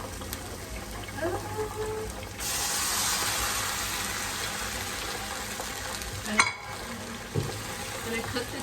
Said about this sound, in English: now we're going to cook the tomato.